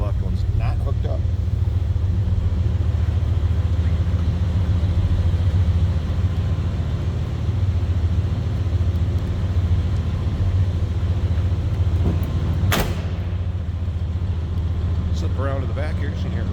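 A 1974 Chevrolet C20 pickup's 454 V8 starts and rumbles steadily at close range throughout, a low continuous drone with a brief sharp burst partway through.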